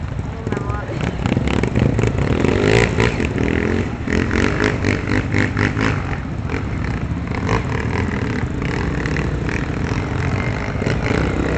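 Motorcycles climbing a steep dirt trail on a hill during a group trail ride, engines revving loud and steady throughout, with people talking over the noise.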